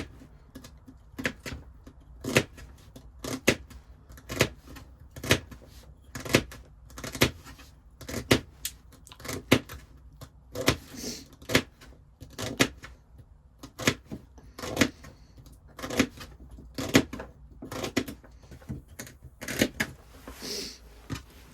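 A knife chops celery into thin pieces on a cutting board inside a tiny cabin, giving a steady series of crisp, close knocks that repeat about once per second for over twenty seconds.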